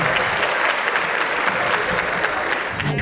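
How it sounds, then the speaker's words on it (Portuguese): An audience claps at a comic hypnosis stage show, dense and continuous applause from a sizable crowd, loud and sustained for the whole stretch with no talking over it. "Uma salva de palmas."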